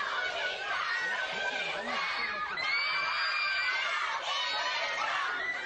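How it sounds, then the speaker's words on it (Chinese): Fans at an airport cheer and scream in a dense, steady wash of high-pitched shrieks and excited chatter that continues without pause. "因为歌迷的欢呼"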